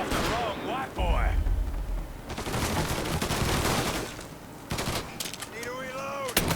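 Gunfire in the video game Mafia III, with bursts of shots over a dense, loud game soundscape, mixed with talking voices.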